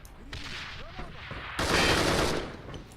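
Bursts of M16 rifle fire during a competitive match of the online shooter AVA, loud rapid gunfire surging in the second half over crowded game noise, with a commentator's voice heard faintly early on.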